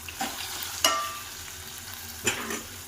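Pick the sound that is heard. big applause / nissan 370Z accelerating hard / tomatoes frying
tomatoes frying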